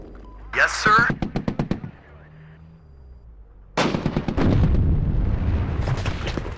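Bursts of rapid automatic gunfire crackle in quick rhythmic volleys, then a heavy explosion booms into a sustained roar with more firing inside the WARNO military strategy game, loud and close.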